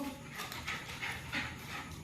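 A pet dog pants rapidly after running laps around a room while playing, quick rhythmic breaths close to the listener, faint and steady with no talking.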